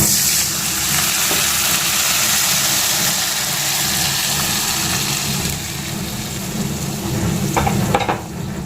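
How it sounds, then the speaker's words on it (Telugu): Spices for a drumstick lentil dal are tempered in hot oil, a loud, dense, continuous sizzle close by that eases slightly partway through and ends with a few clatters. "సో ఇప్పుడైతే నేను పోపు పెట్టేస్తున్నా"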